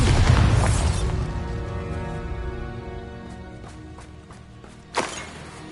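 Spell blast from the Bombarda charm in the video game Hogwarts Legacy: a loud, deep boom opening the scene and rumbling down over about a second, followed by a fading tonal tail and a sharp smaller burst near the end.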